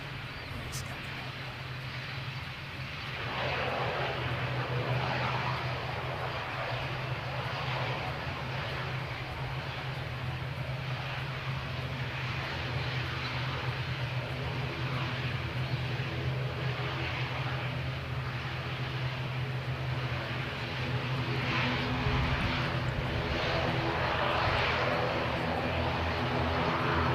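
A fixed-wing airliner on a flight to Christchurch passes overhead, a steady distant engine roar that swells in after a few seconds and holds broad and continuous, fairly faint, with some talk beneath it.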